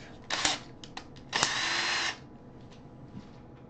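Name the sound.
power drill running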